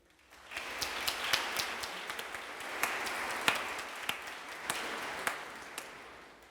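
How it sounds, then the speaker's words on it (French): Scattered applause from a small audience at a mock tribunal, starting softly, swelling into steady clapping, then thinning out, with distinct individual claps audible. "Je vous prie de bien vouloir les applaudir."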